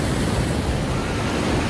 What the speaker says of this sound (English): I found an amazing waterfall.